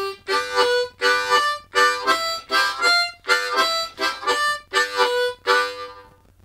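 Blues harmonica lick in a walking bassline style played with tongue blocking, a steady run of rhythmic chordal pulses, close and loud, around ten bursts before fading out.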